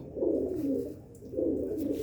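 A pet pigeon coos twice, soft, low and throaty, with a short pause between the two calls, heard close by and alone.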